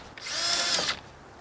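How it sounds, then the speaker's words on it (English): A power drill whirs in one short, close burst of under a second while pre-drilling a wooden lattice side piece for a garden panel. It spins up quickly and cuts off abruptly, with no voices. "Now, I like pre-drilling these."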